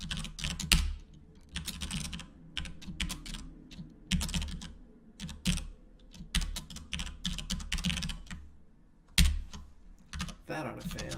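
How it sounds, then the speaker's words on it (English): Typing on a computer keyboard, close and clear, in irregular bursts of quick keystrokes separated by brief pauses, with a few sharper individual key hits. "Let's make sure I can type."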